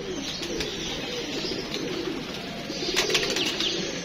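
Pigeons take off outdoors with a brief flurry of flapping wings among soft bird calls and background noise. A louder burst of wingbeats comes near the end, and no one speaks.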